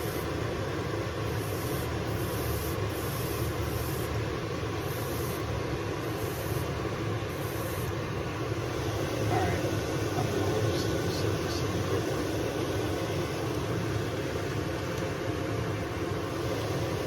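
Steady hiss of a spray gun fed by a Gaahleri SENENAIR GTS-06 bench top compressor with a fan cap, coating a car hood, continuous and close with faint clicks.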